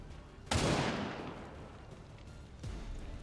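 Gunfire in XCOM 2: War of the Chosen, a sharp broadband shot at about half a second that decays over a second, then a second loud burst near the end, with no talk.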